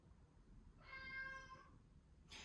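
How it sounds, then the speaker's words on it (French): A pet cat named Lucifer gives one drawn-out, tonal meow, quiet and fairly close, heard alone against a soft room background, with a brief noisy sound right at the end. "depuis hier il n'arrête pas de miauler"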